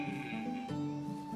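Sheep bleat in the medieval farming video game Medieval Dynasty, a wavering, nasal cry heard close and clear over a steady hum of game ambience.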